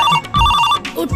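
A telephone rings with electronic trilling bursts inside a song, short and loud against the music's backing.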